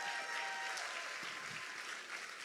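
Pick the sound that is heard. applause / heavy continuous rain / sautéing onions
applause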